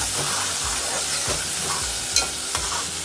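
Tomatoes cook down in a pan for Malvani prawn masala, with a constant loud frying hiss broken by rhythmic scraping stirs of a spoon against the pan.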